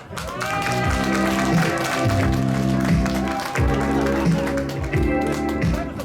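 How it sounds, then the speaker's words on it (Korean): Audience applause welcoming a guest at an outdoor family concert in a theme park, with thick continuous clapping over music playing underneath and a few louder surges. "한 분 소개될 때마다 큰 박수로 환영해 주시면 감사하겠습니다"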